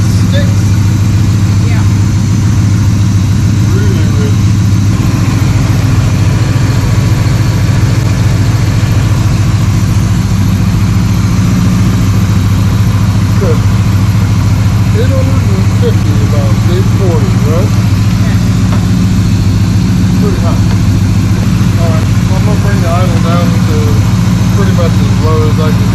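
A 1985 Chevrolet C10 squarebody pickup engine idles steadily, a loud, close, low rumble that holds even for the whole stretch, with a few faint background clinks.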